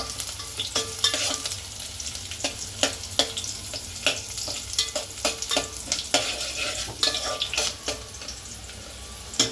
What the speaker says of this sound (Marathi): सर्वात पहिले आईने त्यात हे टाकलं काय म्हणतात तेल आणि त्यामध्ये कांदा आणि आता ती नीट मिक्स करते.